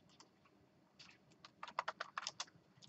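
Quiet keystrokes on a computer keyboard, a few scattered taps followed by a quick run of a dozen or so clicks, faint and close.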